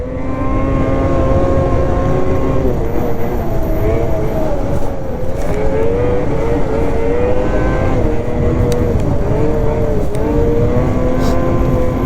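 A 2027 XRS 600RR snowmobile is ridden hard through fast sweeping turns, its loud, close engine droning continuously and rising and falling in pitch with the throttle.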